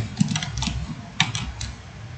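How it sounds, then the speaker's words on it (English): Keystrokes on a computer keyboard: two sharp, distinct clicks about a second apart, close and moderately loud, with light faint tapping between them and no talk. "Press V in the keyboard"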